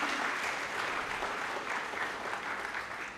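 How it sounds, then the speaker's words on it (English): Audience applause at a university orientation programme at LNMIIT Jaipur, steady and continuous clapping from a sizable crowd, fairly distant and even throughout before tapering slightly at the end. "So you can give them also a big round of applause."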